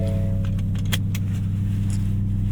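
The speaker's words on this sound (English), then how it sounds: "we are off in the 2026 Ford F-150 Raptor R" Inside the cabin of a 2026 Ford F-150 Raptor R pickup as it pulls away, a deep steady engine drone dominates, with a few light rattles and clicks above it and no speech.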